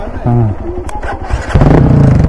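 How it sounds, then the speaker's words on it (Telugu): A Hero Xpulse 200 4V motorcycle cranks and then catches, settling into a loud, close, throbbing idle, while someone speaks briefly just before it starts. "ఒకసారి సౌండ్ వినిపిస్తా నీకు, చూడండి సౌండ్ ఎట్లుంటుంది బండి"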